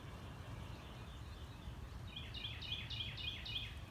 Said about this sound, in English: Listen to the birds chirping. Can you hear them?